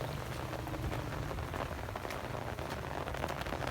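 Steady monsoon rain pours over a village, a continuous close patter and hiss of drops striking the ground and roofs, with no voices over it.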